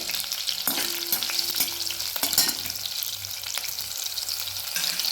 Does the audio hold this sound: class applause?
no